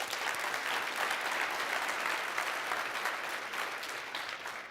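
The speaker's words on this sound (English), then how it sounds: "Let's give them another round of applause." A large audience at a corporate AI conference closing session applauds steadily, a dense, even wash of clapping that holds for several seconds before easing slightly.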